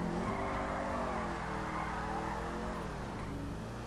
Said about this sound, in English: let's see if I can actually drift.